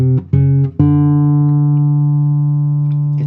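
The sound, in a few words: classical guitar playing tango phrase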